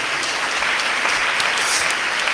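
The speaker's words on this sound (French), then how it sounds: "On peut l'applaudir aussi." Steady applause from an audience at an evening worship and praise gathering, clapping for a painter; dense, even clapping fills the whole stretch with no voices on top.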